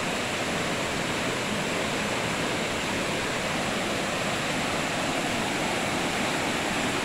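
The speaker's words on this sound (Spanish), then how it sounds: "Después de una gran lluvia que acaba de pasar" A muddy river in full torrent after heavy rain roars in a steady, dense rush of water with no pauses, loud and close, with no voices over it.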